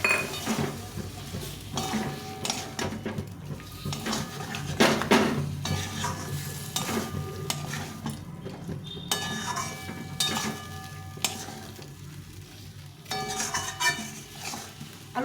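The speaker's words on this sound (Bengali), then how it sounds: "এই মশলা বাটা জলটা দিয়ে দিব দিয়ে একটু ভালো করে কষিয়ে নেব" A spoon clanks and scrapes around a pan while a spice paste with cashew, char magaj seeds and water is sautéed for aloo dum, with irregular metallic clinks and knocks over a faint sizzle and no talk.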